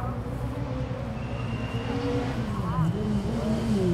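A rally car launches on stage 14 at the Lowveld show ground, its engine note climbing as it pulls away under a commentator's voice.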